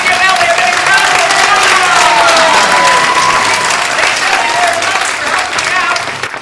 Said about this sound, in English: Everybody give Ellie a big round of